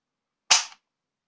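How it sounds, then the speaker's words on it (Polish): A single sharp metallic snap comes from the dry-fired trigger of an SKS M59/66A1 rifle. It is close and loud, with silence before and after. "Przesunięcie do tyłu mamy strzał."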